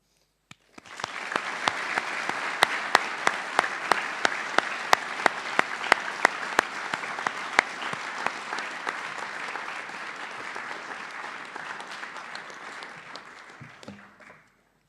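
Audience applause fills a school assembly hall, a dense sustained clapping from a large crowd lasting over ten seconds before tapering off, with a few sharper individual claps standing out near the front.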